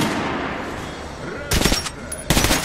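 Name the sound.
gunfire from a video game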